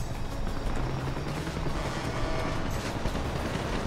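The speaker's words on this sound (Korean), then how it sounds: "야, 헬기는 정말 무서운 상대구나." An enemy helicopter in GTA 5 churns loud and close under a dense, constant clatter of gunfire and explosions, with no speech.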